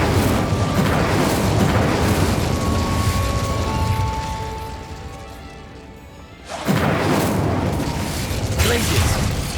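Incendio fire spell roars in the Hogwarts Legacy video game, a sustained loud rushing blaze that fades, drops briefly, then bursts back with a sharp crackling whoosh.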